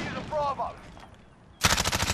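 An MP5 in Modern Warfare fires a short burst of rapid, close, loud shots that starts suddenly after a quiet stretch with a brief voice.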